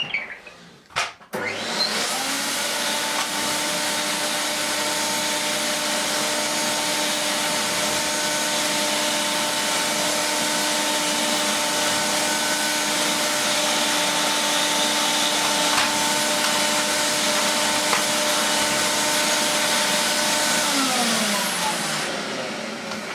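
A Hoover Galaxy vacuum cleaner starts after a click, spins up to a steady loud hum with a sustained tonal whine, then winds down at the end, close and uninterrupted.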